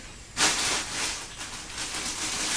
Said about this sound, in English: that's going to the boil